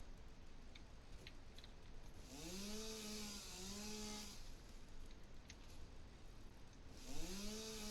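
A chainsaw in the Satisfactory video game cuts through mycelium, its motor whining and rising in pitch in a few revving sweeps over a steady whirring background, moderately loud and without talk.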